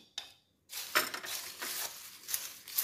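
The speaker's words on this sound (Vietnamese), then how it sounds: "Bây giờ mình cho ớt và mình trộn lên nè." Chili being tossed into crispy fried chicken in a pan, with a burst of scraping and clinking of utensil against cookware, several quick stirring strokes after a brief pause.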